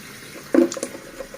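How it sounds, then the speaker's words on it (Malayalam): Tap water splashing as a face is washed, a short burst of splashing with a couple of faint drips afterward, close and fairly quiet. "നല്ല തത്താനത്തെ വെള്ളത്തിൽ ഞാനൊന്ന് മുഖം കഴുകട്ടു"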